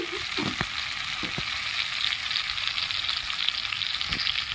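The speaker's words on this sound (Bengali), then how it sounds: "ভালো করে কষিয়ে নেব সামান্য একটু নুন দিয়ে দিচ্ছি" Chickpea dal with jackfruit sizzles steadily in a hot pan as it is sautéed with a little salt, a constant close frying hiss with a few soft scrapes of the spoon.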